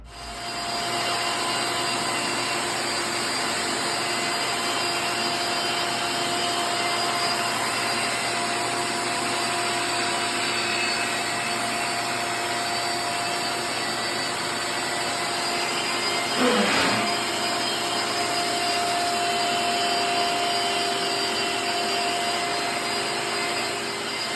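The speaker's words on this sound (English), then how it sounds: "it sucks it up into the vacuum cleaner" A vacuum cleaner runs steadily at close range with a constant whining drone, sucking up sanded popcorn-ceiling dust and paint, with a brief rattle partway through, and no voices.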